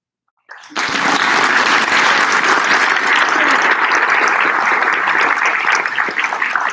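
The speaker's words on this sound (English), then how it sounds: "please give a round of applause for the following students" Loud, sustained applause from an audience at a senior awards ceremony for students, starting abruptly after a moment of quiet and continuing as a dense, even wash of clapping.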